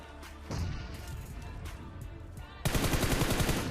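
Gunfire rattles in a video game battle, with rapid automatic bursts crackling close by that jump louder and denser near the end.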